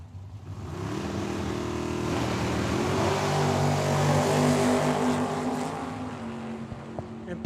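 A Chevrolet Vega drag car launches hard off the line at Tucson Dragway, popping a wheelie: a loud, sustained engine roar close by, its pitch climbing steadily before easing slightly near the end.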